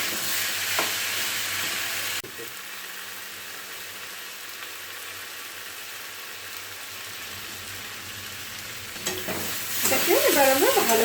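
Potato curry frying in a pan on a raised flame, stirred steadily, with a continuous sizzle and scraping that grows louder and more active toward the end.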